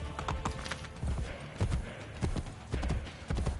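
A horse gallops in Assassin's Creed: Brotherhood, its hooves clip-clopping in quick, rhythmic bursts with short gaps, fairly close and clear, and a brief neigh slips in among the beats.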